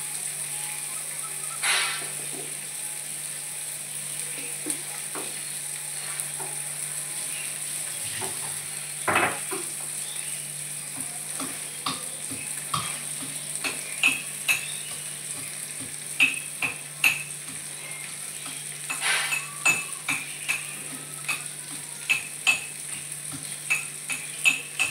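Onion frying in a pan for a moong dal dish, a steady broadband sizzle running throughout with scattered crackles and pops growing busier toward the end, no voices.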